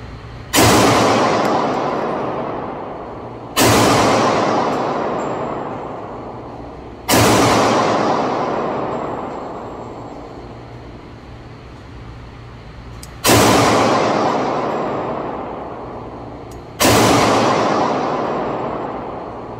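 A Colt 1917-1967 commemorative pistol with a standard seven-round magazine fires five loud single shots spaced a few seconds apart, each a sharp crack that rings out and decays slowly outdoors.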